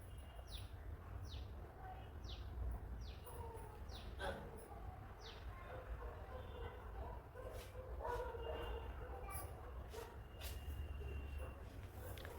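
Dogs crossing a road one after another bark and yip in a quick series outdoors, fairly near, against steady background noise.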